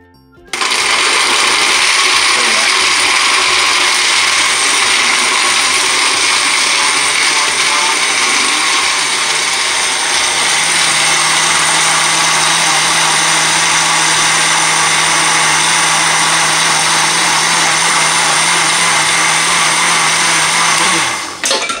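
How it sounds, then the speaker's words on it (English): A kitchen blender whirs at full power for over twenty seconds, blending blueberries, banana and spinach into a smoothie, a loud, steady, high-pitched motor whine that starts abruptly and cuts off at the end. "So now we have all the ingredients inside the blender. Now we're gonna blend them up."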